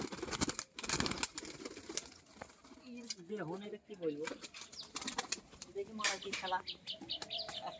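Pigeons at a loft selling high-flyer birds beat their wings in quick bursts of flapping close by, mixed with soft coos and chirps while people talk in the background.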